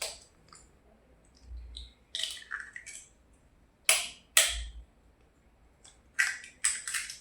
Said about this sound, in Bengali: এবার ডিমগুলো ফাটিয়ে নিই।